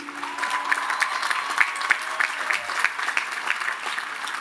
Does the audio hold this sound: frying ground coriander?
no